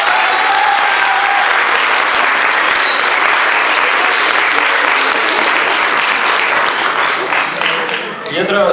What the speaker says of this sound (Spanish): Un aplauso para Manuel, por favor.